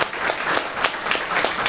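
An audience at a talk claps together in a short, brisk burst of applause, dense and fairly loud throughout.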